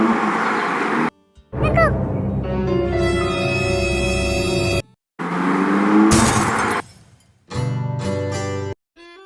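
A car driving slowly, staged as a sound effect in a dramatized story, with engine noise layered under music and sharp shattering crashes, coming in several loud bursts separated by brief silences.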